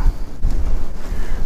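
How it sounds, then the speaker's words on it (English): Strong wind buffets a lakeside campsite at Lake Bardwell near Ennis, Texas, a loud, continuous low roar with gusting rumbles against the microphone and no talk. "It's just so windy."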